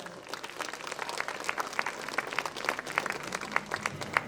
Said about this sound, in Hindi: एक बार पुनः जोरदार तालियां हो जाए